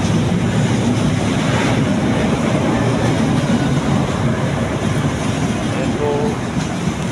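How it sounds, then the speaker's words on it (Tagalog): LRT light rail train riding noise fills the space, a loud, steady rumble and roar throughout, with a brief voice speaking over it. "daming LRT dito mga guys"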